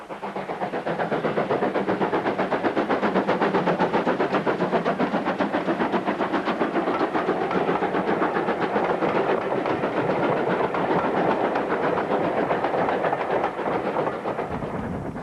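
A Great Western steam locomotive working at a heritage railway gala, a loud continuous rumble of engine and rolling wheels close by, steady throughout with rapid rhythmic chuffing texture.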